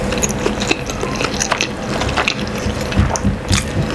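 Sardines in spicy tomato sauce with chili eaten over rice, a first bite with close crunchy chewing and clicking mouth sounds repeating throughout, loud and near with no talk.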